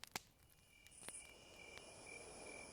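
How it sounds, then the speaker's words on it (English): Radio-comedy effect of crickets chirruping in night hedgerows: faint, thin high chirps and a soft insect trill run on alone through the quiet countryside scene. "The crickets chirruping in the hedgerows."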